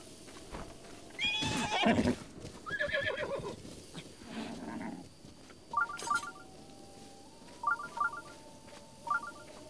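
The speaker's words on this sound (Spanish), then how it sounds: "Vamos a domar a ese caballo." A horse in Zelda: Breath of the Wild whinnies loudly up close, followed by softer snorts and game interface beeps in short repeated bursts.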